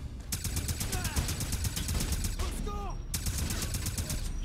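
Gunfire in the video game Wolfenstein: rapid, evenly spaced automatic bursts repeat steadily throughout at moderate loudness, broken by brief gaps and ricochet-like whines.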